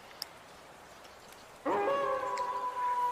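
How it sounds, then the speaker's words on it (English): Wolves howl together in a narrated story, several long sustained wavering calls rising suddenly out of near silence and holding loud and steady to the end. "Howls rose towards the sky, and sang about ancient laws of war, status, and secrecy."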